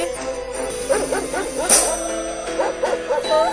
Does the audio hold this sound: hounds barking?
yes